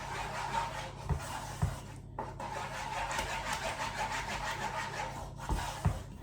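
Raspberry jam being worked into thick white chocolate fudge in a bowl, with repeated close scraping and rubbing strokes of a spoon and a few sharper knocks against the bowl's side.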